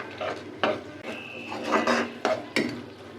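Green chili, ginger, garlic and cumin paste being stirred and fried in a metal pan, with repeated scraping and clanking of a spoon against the pan and faint sizzling, close and irregular.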